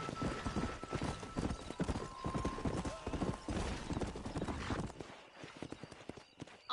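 Horses galloping in the western video game Red Dead Redemption, a rapid, steady drumming of hooves close by, busy and rhythmic for several seconds before thinning out into a few scattered hoofbeats.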